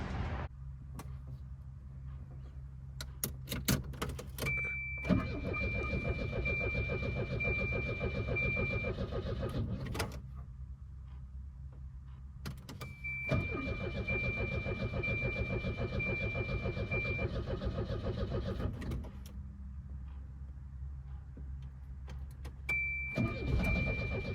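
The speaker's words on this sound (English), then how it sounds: "I gotta pull into the spot because I'm currently on the street and there's no Volvo there" A Volvo 240 idles and rolls along a street into a parking spot, its engine a low steady rumble with a faint whine, broken by short pauses and clicks; the car is near and nobody speaks.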